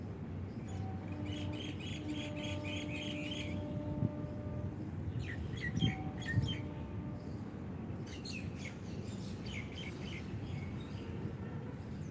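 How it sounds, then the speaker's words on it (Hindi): Birds sing and chirp through a quiet outdoor morning, with repeated high trilling bursts rising in several clusters over a steady low background rumble, moderately distant and fairly faint throughout. "कानों से पक्षियों की मधुर आवाज को सुनिए"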